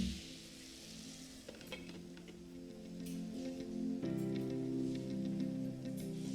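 Chicken cubes fry over medium flame while being stirred in a pan, a soft sizzle broken by scraping and clinking of the utensil, with the sizzle swelling louder partway through.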